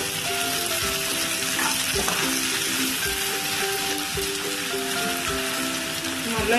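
Chicken masala sautéing in hot oil for a Kerala-style chicken perattu, with a steady close sizzle and soft stirring running throughout beneath background music.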